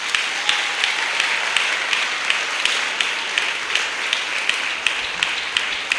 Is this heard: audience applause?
yes